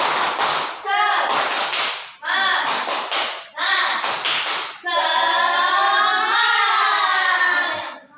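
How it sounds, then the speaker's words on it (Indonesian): A classroom does the "tepuk semangat" cheer: bursts of rhythmic group clapping with chanted voices, then a sustained sung or chanted phrase from many voices to close, loud and close. "kita tepuk semangat dulu yuk"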